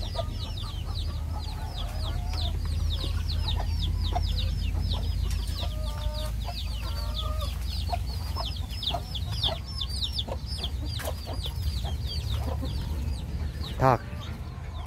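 Chickens clucking on a farm: repeated scattered clucks and squawks close by over a steady low rumble, with one brief louder call near the end and no clear speech.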